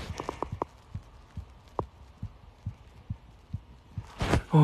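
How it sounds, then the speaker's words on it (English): A human heartbeat thumps in a slow, even series of soft, low pulses close to the microphone, ending in a louder burst of rustling noise. "Can you hear my heartbeat?"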